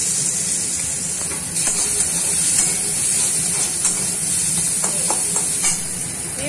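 Chopped onion frying in hot oil with nigella seeds, a loud continuous sizzle and hiss that stays steady throughout, with occasional faint clicks of stirring.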